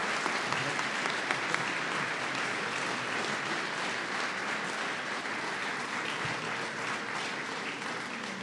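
Dense, sustained applause from a large audience at a political event honoring Cardinal Dolan, a broad wash of clapping that stays loud and even from start to finish with no talk over it.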